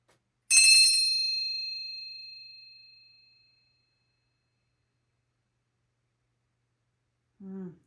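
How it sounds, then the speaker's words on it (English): A single bright bell or chime is struck once near the start and its clear ringing tone fades slowly over about three seconds, used in a cleansing ritual; a brief voice follows at the very end. "I'm sending intention with this ringing to cleanse your area, cleanse my area"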